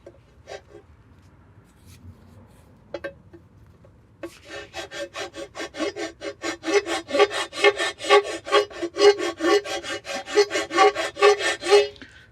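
Flat file rasping across a corroded exhaust manifold on a 1972 Road Runner, a few tentative strokes at first, then a steady run of loud, rhythmic back-and-forth filing strokes, close and alone.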